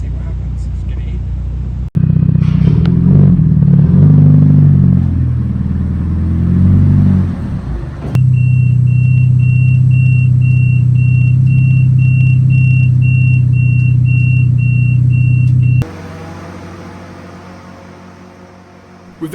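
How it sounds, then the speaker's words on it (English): A Mitsubishi Evo 5 RS strapped to a rolling-road dyno, its engine droning loud and steady with a sustained high whine, after a shorter rough rumbling stretch and ending with a lower idle. "The beauty of a dyno, or rolling road, is that the car can be put through its paces whilst monitoring all of its vital signs."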